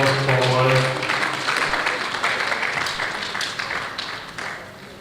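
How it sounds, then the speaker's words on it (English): An audience applauds at a stakeholders' engagement meeting on safety practice as a speaker steps forward. Steady, dense clapping fills the whole stretch, with a brief voice at the start. "Please, a round of applause for him as he comes forward."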